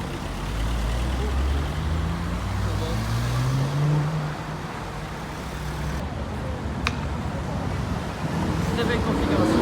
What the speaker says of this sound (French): Une turbo qui passe tranquillement.